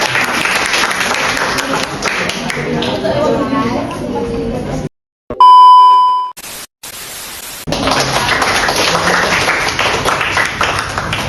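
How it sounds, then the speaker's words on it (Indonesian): A seminar audience claps in loud, sustained applause, broken midway by a brief electronic beep and a stretch of static before the clapping resumes, with voices mixed in. "Boleh tepuk tangan sekali lagi teman-teman."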